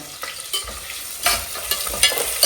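Chopped onion and green chillies fry in oil and ghee with a continuous close hiss, broken by several sharp stirring scrapes and spatula taps.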